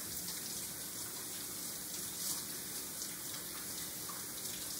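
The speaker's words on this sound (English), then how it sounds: "stick them back under the water, wash all that soap off." Steady tap water runs into a sink while hands are rinsed of soap, a continuous hiss at moderate level with no talk.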